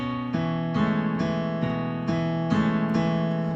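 Solo piano plays the verse section of a song, with a held chord struck again at a steady pulse, sounding close and clear and with no voices.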